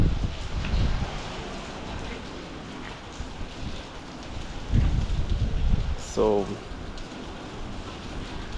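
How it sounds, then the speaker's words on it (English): Rain falls steadily during the rainy season in a garden by an orange tree, a soft, continuous patter close by, with a few faint bumps and a brief voice saying one word. "we are having rain here."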